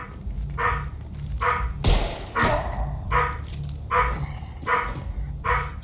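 A dog barks repeatedly in a steady rhythm of short, sharp barks, fairly close, with a thump partway through and no talking.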